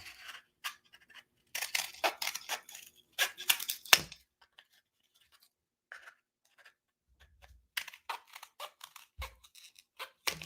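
Scissors cutting paper shapes for a Christmas craft, short crisp snips in clusters close by, with quiet pauses between the bursts of cutting.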